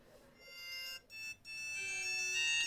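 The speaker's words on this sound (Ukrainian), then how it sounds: "Ось так він пищить дуже голосно. Це смски приходять." A small phone beeps loudly with a bright, continuous electronic melody of high tones, briefly cut twice before resuming.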